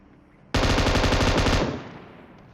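A single long burst of automatic gunfire in the PUBG Mobile game erupts suddenly, loud and rapid, lasting about a second before trailing off into quiet.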